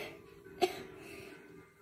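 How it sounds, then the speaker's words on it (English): A single short cough, fairly close and moderately loud, breaks an otherwise quiet moment. "spit up. Cough."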